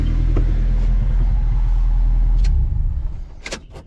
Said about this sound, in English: The idle is kind of high, so it sounds pretty deep